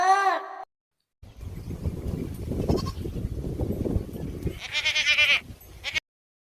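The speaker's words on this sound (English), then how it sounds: "G for goat." A goat bleats loudly and close by, a short wavering cry, then a second longer bleat after a stretch of rustling and shuffling noise.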